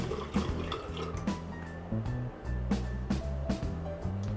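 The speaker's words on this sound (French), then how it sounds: "Attendez, je me rince." Tap water runs steadily at close range in a bathroom sink during face rinsing, with splashes and drips over the flow.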